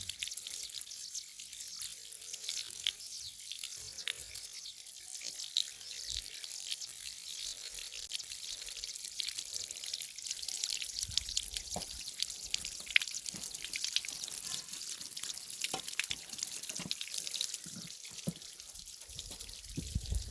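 Spring water in a mountain stream high in the hills of a Chakwal valley runs as a steady, close hiss of flowing and splashing water, continuous and alone throughout, with small drips and gurgles rising above it.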